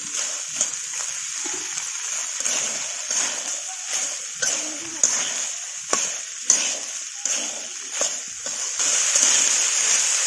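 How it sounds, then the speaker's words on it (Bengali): Boiled chickpeas are added to spiced, sautéed potatoes in a hot pan, with a continuous close sizzle broken by repeated scraping stirs; a voice talks faintly at times. "এবার দিয়ে দেবো সেদ্ধ করে রাখা ছোলা"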